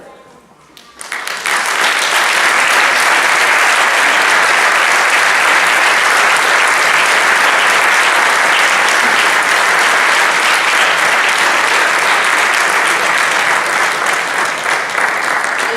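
An audience at a 2017 local award gala breaks into loud, sustained applause after a brief quieter moment, the clapping dense and continuous to the end.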